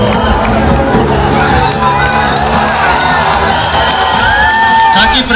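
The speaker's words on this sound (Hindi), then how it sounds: "जोरदार तालियां बजा करके इनका स्वागत करें" A loud, packed crowd cheers, whoops and shouts for a children's performance at a Ganesh Chaturthi celebration in Talwandi, Kota, Rajasthan, a constant roar of voices and children's shouting with clapping buried in the din.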